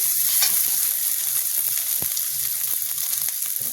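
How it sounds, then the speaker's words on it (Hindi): Onion and green chili fry in a pan with a loud, steady sizzle and crackle, dotted with small pops and a couple of sharper spatula knocks. "और प्याज पकने के बाद हम इसमें डालेंगे, देखिए हरा मिर्चा डाल दिया, इसको पकाएंगे।"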